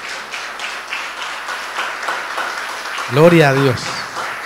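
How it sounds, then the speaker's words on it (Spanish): A congregation at a Spanish-language church service keeps clapping in a moderate, steady round. Near the end, a voice cuts in loudly over it. "Dele un aplauso al Señor"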